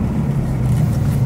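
A 1964 Porsche 356 C coupé with a 100 hp engine drones steadily and loudly as it drives, a brief low rumble with no talk.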